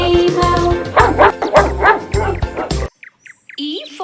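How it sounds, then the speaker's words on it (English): A dog barks several times over a bouncy children's alphabet song with a sung voice and backing music, followed by a few short chirpy sounds near the end. "D for dog."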